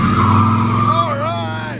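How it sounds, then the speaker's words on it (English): A 1988 Chevy 1500 with a 5.7L 350 small-block V8 and MagnaFlow true dual exhaust revs hard, a loud, close, sustained roar whose pitch rises and wavers as the engine is pushed. "MagnaFlow True Duals. Get on it!"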